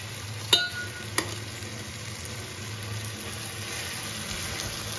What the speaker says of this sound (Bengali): এবার এর মধ্যে মাছের মাথা দুটো দিয়ে দেবো